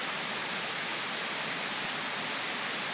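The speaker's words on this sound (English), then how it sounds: "Pretty intense rain." Heavy rain coming down in sheets outdoors near a tree and an overhang, a steady, dense hiss with no breaks and no voices.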